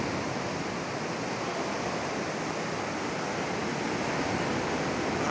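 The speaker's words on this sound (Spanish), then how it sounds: "Vamos a asomarnos aquí hasta el mar para que lo veáis desde este lado. Y mirad cómo ruge" Sea surf roars steadily near a beach cave at Llanes, Asturias, with the tide going out, a dense, continuous wash of breaking waves with no pauses and no voices.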